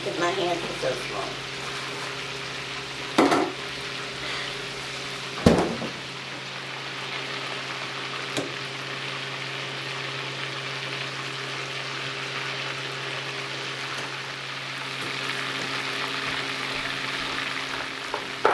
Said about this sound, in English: The most difficult part of frying chicken